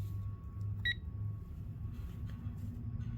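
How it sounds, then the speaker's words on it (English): A Snap-on torque wrench gives one short, clear electronic beep at its set torque, close by over a low steady hum in a quiet shop, with no talk. "I'll torque till the Snap-on wrench beeps"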